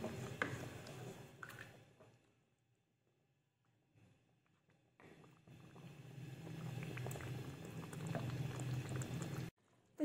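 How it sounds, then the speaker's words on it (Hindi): Marinated chicken pieces frying in a hot pan for tandoori chicken, a steady bubbling sizzle that fades out briefly near the start, then returns loud and continuous and cuts off abruptly at the end. "ये चिकन मैंने इसमें ऐड कर दी है और इसको भी मैं अच्छे से फ्राई करूँगी"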